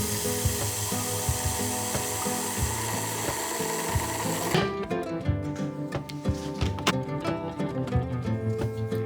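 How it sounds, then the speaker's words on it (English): A food processor grinds basil, garlic and pine nuts into a paste, a loud close whirring churn with rattling chops that shifts to a choppier, more uneven texture partway through. "Add the basil to the garlic and pine nuts. Now process into a paste."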